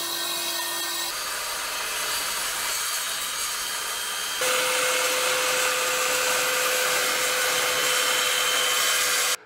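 A 40 cm aluminium awning rail being sawn into three pieces gives a loud, continuous, close cutting drone that shifts pitch partway through and then stops abruptly.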